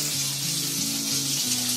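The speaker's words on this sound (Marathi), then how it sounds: "मच्छी पण चांगली अशी भाजून घ्यायची, जरा मीडियम गॅस आहे बघ" Fish frying in hot oil in a home kitchen pan over medium heat, a steady close crackling sizzle that holds throughout without talk.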